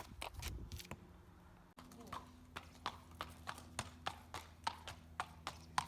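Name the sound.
horse footfalls while moving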